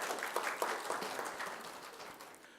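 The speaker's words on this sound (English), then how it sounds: "Please give him a round of applause." Applause from an audience at a Pan African award ceremony, individual claps audible within a moderate round that gradually tapers off.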